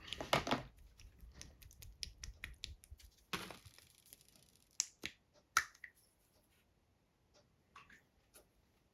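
A pot of Games Workshop Leadbelcher metallic miniature paint shaken by hand: a burst of rapid rattling clicks from the agitator, then scattered sharp taps and knocks, close and fairly quiet, with no talking.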